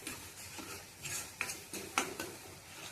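Green masala for a soybean curry sautés in oil while a spoon stirs it, making faint sizzling under irregular scrapes and clinks against the pan.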